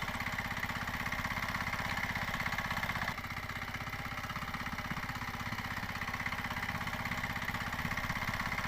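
Avinash Pichurle's tractor idles nearby on village farmland in a steady, pulsing rumble. A slight drop in level comes partway through, then the engine carries on evenly with no voices.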